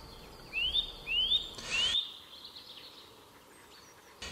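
A male bird, likely in oak woodland canopy, gives thrush-like fluting calls: three short rising whistled notes in quick succession, fairly clear, over a quiet outdoor background.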